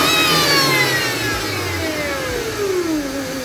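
A Mercedes-Benz W204 engine runs fitted with a stack intake, giving a loud whining, sucking roar with pitch sweeping downward as revs fall away.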